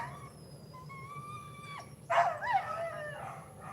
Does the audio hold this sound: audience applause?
no